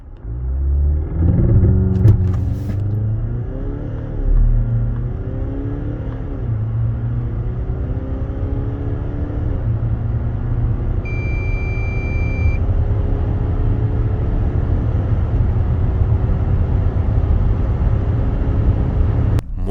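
A Volvo XC90 B5 AWD with the 2.0 diesel of 235 hp pulls hard toward 100 km/h, engine rumble rising through rising-pitch gear sweeps, loud and close from the cabin with steady road noise underneath.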